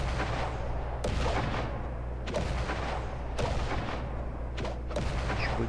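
Grenade blasts in the mobile battle-royale game Creative Destruction: several sharp, loud explosions about a second apart, each with a crackling tail, over a steady low in-game rumble.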